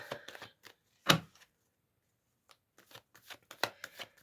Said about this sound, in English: I'm going to draw 3 cards every time, and an oracle card for every 3 cards.